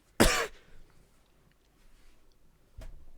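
A single sharp cough bursts out close by, followed by quiet room tone and a softer throat sound near the end.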